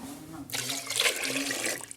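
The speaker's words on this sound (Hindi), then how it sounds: "मैं इसके अंदर 2 कटोरे पानी के शामिल करने लगा हूँ।" Water pours steadily into a pot of Pakistani village-style mutton curry, a close, continuous rushing splash that starts abruptly after a brief quiet moment and runs to the end.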